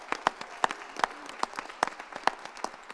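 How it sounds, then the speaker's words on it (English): Audience at a Princeton Board of Education meeting applauding student track athletes, scattered, distinct hand claps popping out of a quiet room, sparse and uneven rather than a full ovation. "Let's give them a big round of applause."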